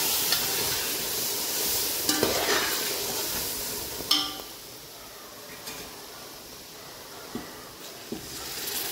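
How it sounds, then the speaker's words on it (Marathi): Milk stirred in a pot while cooking prasad gives a soft continuous hissing, bubbling texture with occasional scrapes and light clinks of the spoon against the pot, fairly close and without speech. "अगोदर मी थोडं हलवून घेते व्यवस्थित."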